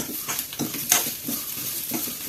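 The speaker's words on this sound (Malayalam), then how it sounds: "നമുക്ക് ഈ ഉള്ളിയും കൂടി ഇട്ട് കൊടുക്കട്ടോ ഉള്ളി അതിൽ വറട്ടെ" Chopped onion sizzles in a pan with roasted grated coconut, with a steady crackle of frying and rhythmic scraping strokes of a spoon stirring, plus one sharp metallic clink.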